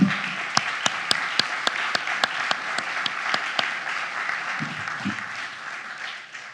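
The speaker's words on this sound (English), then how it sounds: "could I ask for a round of applause to these organizers and volunteers" A conference audience at a DevOps community talk in Boston breaks into applause, a burst of many hands clapping that holds steady for several seconds before gradually thinning out.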